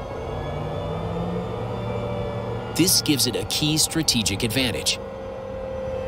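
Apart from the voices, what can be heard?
tank gas turbine engine running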